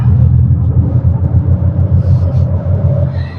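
Synthetic 'roaring pulsation' driving sound selectable in a Mercedes CLA 250+ electric car, a loud, deep, steady throbbing hum with a rhythmic low pulse and a faint higher tone drifting above, heard inside the cabin.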